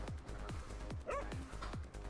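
A dog in the Overcooked 2 video game giving a string of short, repeated yips and barks at a fast rhythm, with one whimpering tone in the middle, up close over a low background hum.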